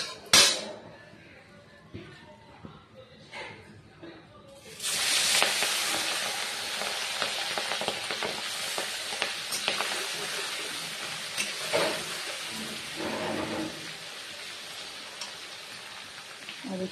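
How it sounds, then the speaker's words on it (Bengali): Prawns frying in hot oil seasoned with turmeric and salt, a loud sustained crackling sizzle that erupts suddenly after a few seconds of quieter clinks and stays dense and steady to the end. "এবার আমি তেল গরম হয়ে গেছে, এবার আমি মাছটা দিয়ে দেব।"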